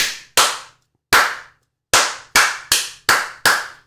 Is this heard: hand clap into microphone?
yes